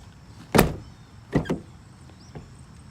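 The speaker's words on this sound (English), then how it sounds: "you gotta pretty much pick up the door when you shut it" A car door is heaved up and slammed shut with a sharp, close thud, followed by a couple of softer knocks and rattles; the door sags and must be lifted to close, on a daily-driver car.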